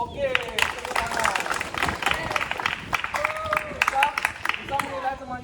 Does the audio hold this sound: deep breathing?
no